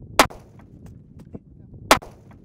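Two sharp, loud .45 ACP pistol shots ring out about two seconds apart at close range, fired into a roll of toilet paper, with faint clicks and handling noise between them.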